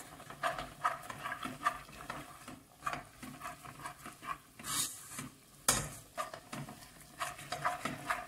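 Peanuts stirred through caramelizing sugar for praline, giving repeated gritty scraping and clacking strokes in a pan, with a couple of sharper knocks in the middle.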